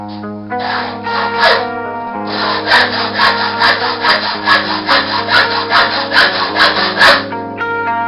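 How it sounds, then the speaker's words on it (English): Steady back-and-forth sawing, rhythmic rasping strokes of a dull hacksaw biting through aluminum angle, close and fairly loud, with no talking. "to do that, I just use a regular old-fashioned hacksaw"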